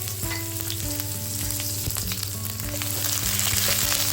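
Garlic sizzles steadily in hot cooking oil for a home-style beef pares dish, with crackling pops and a scraping stir now and then, close and continuous.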